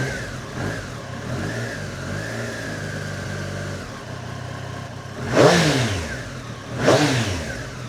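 A Triumph Street Triple R motorcycle idles steadily up close, then its engine is revved twice in sharp bursts near the end.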